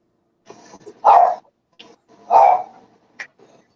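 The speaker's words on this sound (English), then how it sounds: "Is that a dog?" A dog gives two loud, separate barks about a second apart, each followed by quieter yips and small sounds, with silence between.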